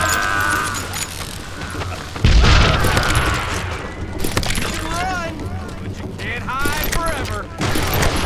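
Gunshots in the Western shooter Call of Juarez Gunslinger, a heavy booming shot among scattered firing and game effects, with a voice talking over much of it.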